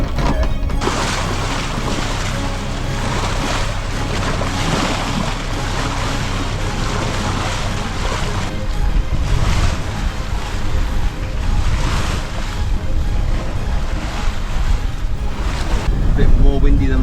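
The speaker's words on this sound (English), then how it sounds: "More windy than I thought." Strong wind roars and waves wash steadily against a sailboat under way on the trip to an island, a loud, continuous broadband rush that swells louder toward the end, with faint voices now and then.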